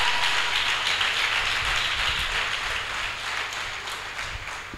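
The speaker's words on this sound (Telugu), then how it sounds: "దేనికి చప్పట్లు కొట్టారు?" A church congregation at a holy communion service applauds, a dense wash of many hands clapping that fades slightly toward the end, heard in a reverberant hall without talk.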